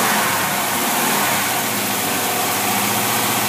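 A small engine fitted with a Predator carburetor runs loud and close, its steady, rough mid-pitched idle keeping on throughout with no talk over it.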